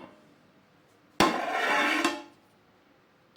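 The lid comes off a pot of ghee rice after about half an hour of dum cooking, a single close metallic scrape and clank lasting under a second, followed by quiet.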